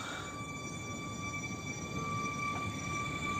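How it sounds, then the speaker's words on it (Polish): A Koleje Mazowieckie Flirt R160 electric train pulls away from Warszawa Gdańska station, a faint, steady motor whine with thin high tones over a low rumble, heard from a short distance. "pociąg kolei mazowieckich, Flirt R160"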